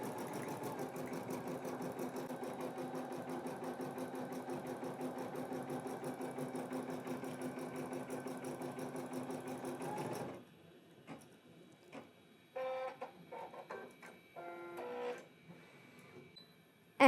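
An embroidery machine stitches a monogram onto a cloth napkin, running a steady, fast mechanical chatter for about ten seconds, then stopping; a few short whirs and clicks follow as the thread is trimmed, with no talking.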